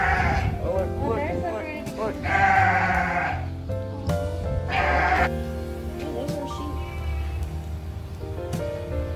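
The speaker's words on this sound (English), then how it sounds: "That's a sheep. That one's a sheep." Several sheep bleat loudly nearby in wavering calls, overlapping a steady low rumble and background chatter.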